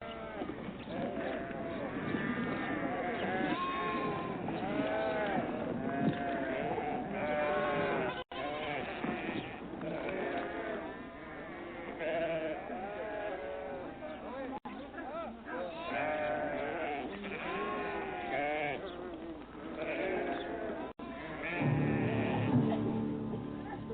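Sheep bleat again and again throughout, a steady, moderately faint flock sound with possible goat-like calls mixed in, suggesting a pastoral herd of sheep and other livestock.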